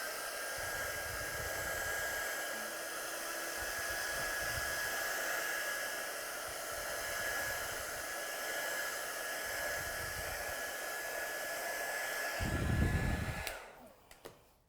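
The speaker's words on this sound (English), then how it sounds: "So I'm just going to heat set that quickly to make sure I don't lean on anything." A heat tool blows steadily over freshly painted watercolour to set it, a continuous close whooshing roar holding for about twelve seconds before it cuts off, leaving faint handling clicks.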